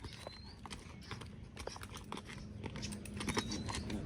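A Kathiyawadi mare's hooves clip-clop in a steady rhythm on a hard road, close by, with faint background noise and a brief high whine.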